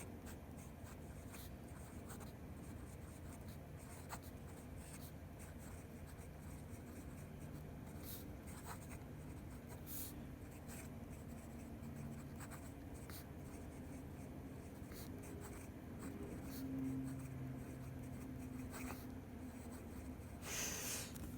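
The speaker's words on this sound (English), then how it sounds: "let's get into the writing sample, as always" A Jinhao X750 fountain pen nib moves over paper in a quiet, continuous scratch, faint and close, with short strokes and taps throughout and soft breathing nearby; nobody speaks.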